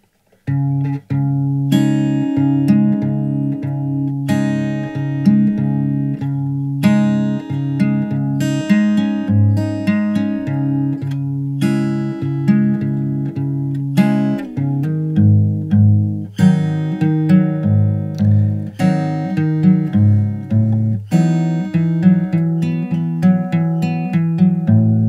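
Acoustic guitar slowly picking the introduction of a song, steady fingerpicked bass notes under ringing treble melody notes with hammer-ons, close and clear throughout with no voice.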